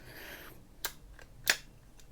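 The bail arm of a Daiwa Exist spinning reel snaps over in two crisp, sharp clicks, close and fairly quiet, with a faint rustle before them.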